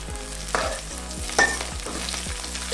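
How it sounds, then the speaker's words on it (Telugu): Curry leaves going into onions browning in oil and butter, with a steady sizzle and stirring scrapes that come in a regular rhythm, close and without talk. "ఉల్లిపాయలు కొద్దిగా బ్రౌన్ అయ్యాక ఇందులోకి 4 రెమ్మల కరివేపాకు వేసుకుంటున్నాను।"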